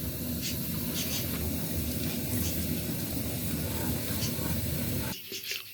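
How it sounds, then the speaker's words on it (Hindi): Whole garam masala fries in hot ghee for a beef korma, a dense, even sizzling hiss that runs steadily and then drops away sharply near the end. "अब हम इसके अंदर साबित गरम मसाला ऐड करेंगे और इसे हल्का सा फ्राई करेंगे"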